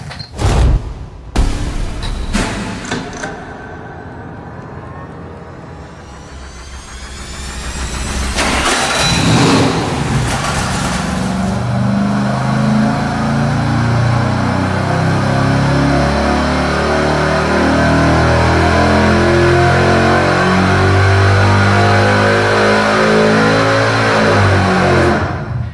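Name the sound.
car engine revving, 3-inch exhaust with Hooker mufflers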